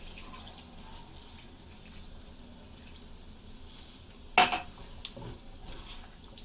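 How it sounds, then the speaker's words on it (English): Water poured into chicken curry simmering in a pot over a low flame, a soft wash of liquid with one sharp clank of the pot midway, fairly quiet and close. "add about 3/4 of a cup of water into the"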